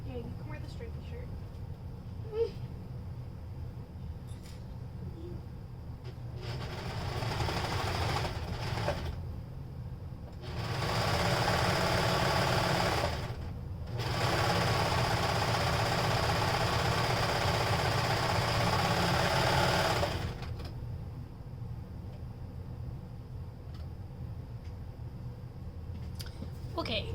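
A serger running in bursts as it stitches a seam on fabric for a beard sock, its steady mechanical whir rising for several seconds at a time, with short pauses between runs and background household sounds.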